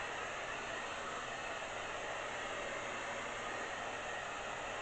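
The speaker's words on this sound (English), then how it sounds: "You just want to constantly move your hair dryer." Steady, even whoosh of a hair dryer running continuously nearby with no talk, the airflow moved across a pool table surface during refinishing work.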